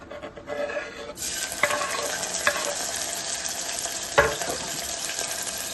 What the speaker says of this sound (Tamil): ஆயில் நல்லா ஹீட் ஆனதும் ஒரு மீடியம் சைஸ் ஆனியன் போட்டுக்கலாம்